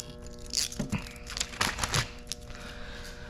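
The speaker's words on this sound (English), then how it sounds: "We're just gonna cut it off right here." SunTek carbon window tint film being cut for a 2000 GMC Sierra, a few close, crisp crinkling and snipping bursts in quick succession, then a quieter pause.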